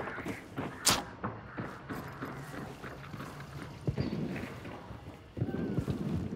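Enemy footsteps thud up stairs in the multiplayer shooter Hunt: Showdown, a run of soft close steps over low wind and game ambience, with a louder thump near the start.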